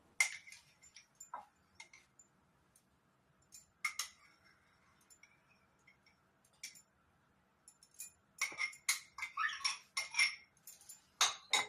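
Gond katira being spooned into a glass: light clinks and taps of a spoon against glass, sparse at first and then a busier run of rapid chinks near the end, with no voices.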